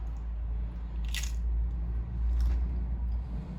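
A biscuit dunked in water is chewed close up, with a couple of brief soft crunchy bites and moist squishing over a low rumble, no voices.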